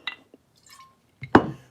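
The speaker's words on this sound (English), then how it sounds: "We're going to pour us a nice little pour." Bayou Single Barrel whiskey is poured into a small glass: a few bright clinks and short liquid splashes, a brief pause, then a louder close glug and clink as the pour lands.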